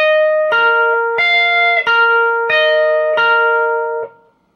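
A guitar picks an intro riff, a bright clean melody of about six plucked notes in an even, steady rhythm, ringing close and loud with no voices.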